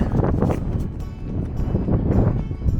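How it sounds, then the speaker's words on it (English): Gusty wind buffeting the microphone in heavy low rumbles that swell and ease, outdoors on a hike in Gila National Forest. "It is very windy today"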